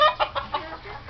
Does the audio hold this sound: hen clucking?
yes